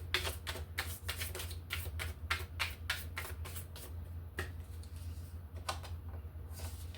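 A tarot card deck is shuffled and cut close by, giving a rapid run of crisp, rhythmic riffling clicks over a steady low hum, thinning to a few scattered snaps near the end.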